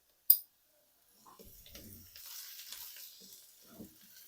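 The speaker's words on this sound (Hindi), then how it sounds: "1 से 2 मिनट में वेजिटेबल्स को पका लूंगी मिक्स करते हुए।" Vegetables for egg fried rice sizzle and rustle in a pan as they are stirred, a quiet close crackle following one sharp click at the start.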